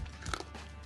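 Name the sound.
crunch of biting caramelized pork belly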